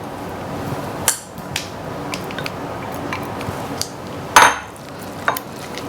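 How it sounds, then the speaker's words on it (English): Beets being stirred into cold beet soup: a spoon clinks and knocks against the bowl in scattered, sharp taps over a quiet background. "Stir, stir, stir."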